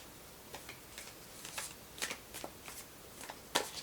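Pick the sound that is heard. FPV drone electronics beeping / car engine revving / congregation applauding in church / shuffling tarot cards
shuffling tarot cards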